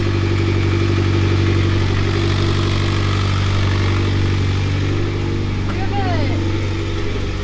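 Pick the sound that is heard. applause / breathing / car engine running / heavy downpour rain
car engine running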